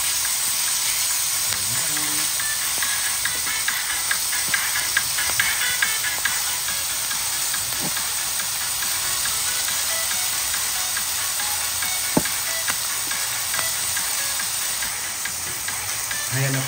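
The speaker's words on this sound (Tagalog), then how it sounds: "Ginigisa po ang ating minced beef." Minced beef sautés in a hot pan with a steady, bright sizzle and hiss, broken by occasional clicks and stirring scrapes, continuous and close throughout.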